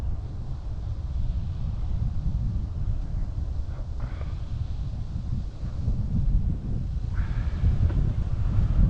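Wind blowing on an outdoor trail, a steady low rumbling buffet across the microphone, continuous and fairly loud, with faint higher sounds in the background.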